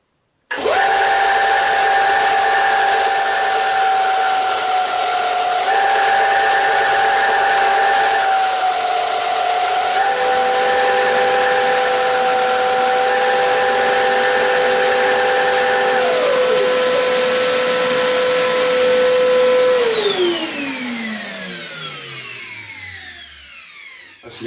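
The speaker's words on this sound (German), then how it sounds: "Um die Fläche zu schleifen, nehme ich oben dieses Band, habe mal auf diesem kleinen Stück Meranti ein bisschen Bleistiftstrich drauf gemacht und schalte jetzt das Gerät einfach mal ein." BTS 800 combined belt and disc sander sanding a small piece of Meranti wood: a loud, steady motor whine with rising grinding bursts as the wood meets the belt, then a falling whine as the machine switches off and spins down.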